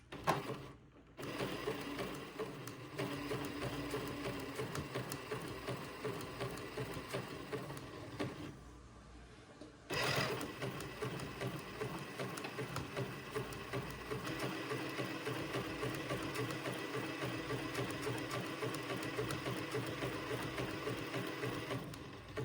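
A sewing machine zigzag-stitches an entredeux seam on a baby bubble garment, running steadily and close with a short stop partway through before continuing, with no talking.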